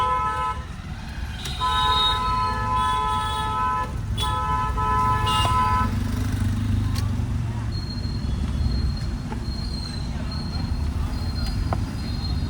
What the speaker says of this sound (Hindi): अभी यहीं से लेफ्ट हॉर्न दीजिए